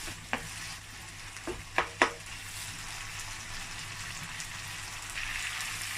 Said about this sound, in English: So I'll mix this, I'll be mixing it